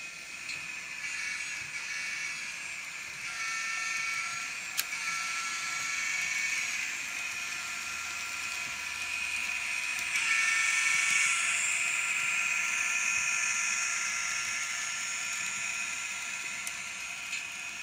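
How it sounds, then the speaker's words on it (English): An N scale Kato SD70 model locomotive fitted with an MRC DCC sound decoder runs steadily, giving a continuous hissing, whirring motor tone with a faint hum, alone and fairly quiet throughout. "And now it's time to run some trains."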